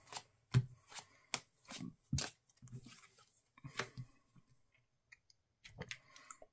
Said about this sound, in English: And then I'll shuffle this deck.